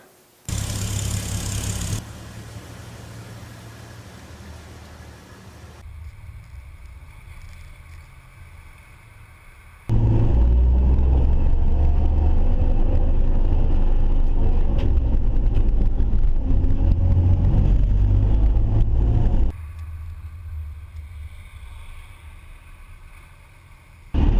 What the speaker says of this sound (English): Well, we're heading up on the freeway northbound. I'll step on it for you here.